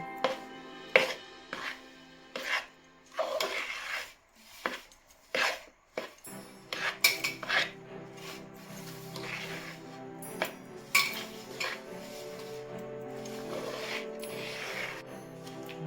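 Rice flour for ladoos being mixed in a metal pan, with irregular scraping, clinking and knocking of a spoon against the pan, close and moderately loud, in uneven bursts with brief pauses.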